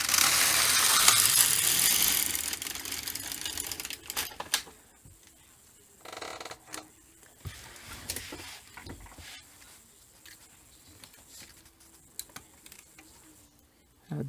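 A knitting machine carriage drawn across the bed for one row makes a loud, dense mechanical rush for about four seconds, then quieter clicks and ratcheting handling noises follow.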